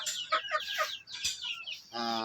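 A brooding hen clucks nearby in short, soft, rapid bursts, then gives a longer, drawn-out murmuring call.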